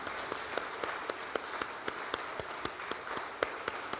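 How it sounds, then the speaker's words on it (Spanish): A church congregation claps in a fairly quiet, steady rhythm, with sharp regular beats standing out over a softer wash of scattered clapping. "Le damos un fuerte aplauso al Señor."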